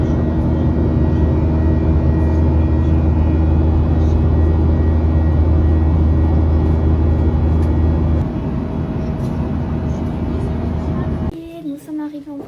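An airplane sits at Istanbul airport during boarding, giving a loud, steady low engine and air-system drone that eases slightly partway through and drops off near the end.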